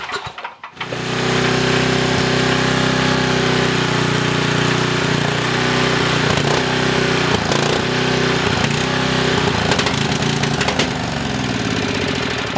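Coleman 5000 W generator engine starting and then running loud and steady close by, with an uneven, faintly knocking idle throughout.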